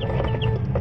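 Tethered chickens cluck close by in hot weather, a brief burst of low, overlapping clucks and throaty murmurs with no talk.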